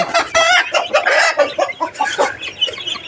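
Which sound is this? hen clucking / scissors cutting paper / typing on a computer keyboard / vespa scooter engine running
hen clucking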